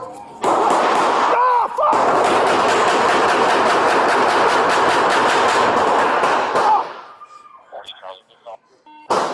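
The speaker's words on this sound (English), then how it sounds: "Officer involved shooting." Gunfire in a police shootout with a barricaded suspect holding hostages: a loud, sustained barrage of rapid shots for several seconds, then it breaks off into quieter, scattered sounds.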